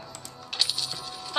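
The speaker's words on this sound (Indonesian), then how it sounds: "Kedengar kan suara mouse ya? Kalau gue klik." Quick computer mouse clicks during a Mobile Legends session, a short run of light, sharp ticks up close, several in rapid succession.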